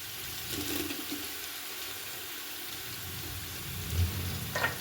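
Chopped onion and green chillies sizzle in hot oil for a dal tadka, a quiet, steady hiss with small crackles and a brief splash near the end, and no talk.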